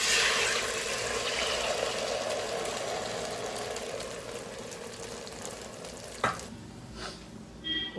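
Sweet batter poured into hot ghee with fried coconut in a pan, setting off a steady broadband sizzle that fades slowly, followed by a few brief clatters near the end.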